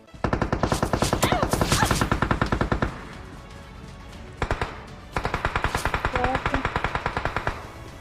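Automatic weapon fire in the mobile battle royale PUBG Mobile: two long rapid bursts of gunshots, loud and close, with a short pause and a brief burst between them.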